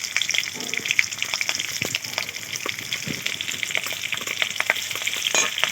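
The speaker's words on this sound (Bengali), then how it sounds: "কাঁচা লঙ্কা আর তেজপাতা হালকা করে একটু ভেজে নিতে হবে" Green chilies and bay leaves sizzle steadily in hot oil for a village-style chicken curry, a close, continuous crackle with occasional stirring scrapes and no talk.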